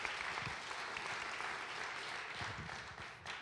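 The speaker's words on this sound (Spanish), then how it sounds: "Denle un aplauso a estos 4 voluntarios." Church congregation applause during a sermon, a steady patter of many hands clapping at moderate volume for a few seconds, no voices over it.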